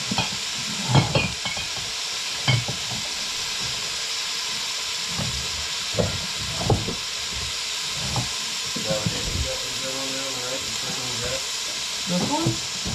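Cabbage stir-frying in a pan at an outdoor Sri Lankan street food cook on an American farm: a steady hiss and sizzle with intermittent clanks and stirring scrapes, while people talk nearby.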